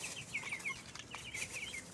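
Free-range 45-day-old broiler chickens kept alongside ducklings in a backyard farm at 3 a.m., giving repeated soft clucks and chirps in a steady rhythm, close by and moderately loud over faint background hiss, with no talking.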